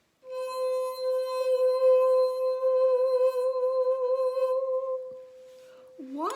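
A wet finger circling the rim of a larger glass goblet sings a steady, pure, low-pitched tone that rings continuously for about five seconds with a slight wavering, then stops abruptly.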